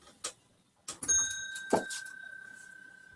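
A single bell strike rings out with a sustained, clear tone that slowly fades, after a few soft knocks and taps.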